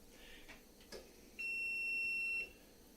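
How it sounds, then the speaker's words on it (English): A steady electronic beep sounds in a home kitchen during a live cooking session, holding for about a second after faint background noise, loud and clear with no talking over it. "I hear you beeping."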